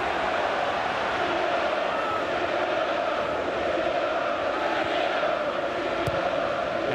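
A capacity crowd at a 1998/99 Second Division play-off football match between Manchester City and Gillingham, a loud, unbroken roar of chanting and cheering filling the stadium.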